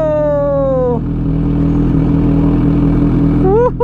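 Kawasaki Ninja 1000 with dual exhaust running loud and close with a deep steady drone, a voice exclaiming at the start and again near the end.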